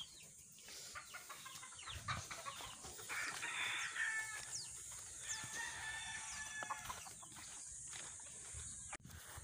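Chickens clucking and a rooster crowing on a gamefowl farm, scattered calls overlapping at moderate distance over a quiet outdoor background, with no talk.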